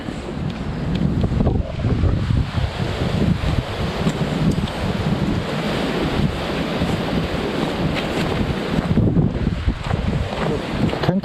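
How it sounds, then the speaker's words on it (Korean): Strong wind buffets the microphone in a steady, loud roar at a lakeside ice-fishing spot by a reservoir, with gusts rising and falling throughout and no one speaking. "근데 바람이 너무 많이 불어요 여기"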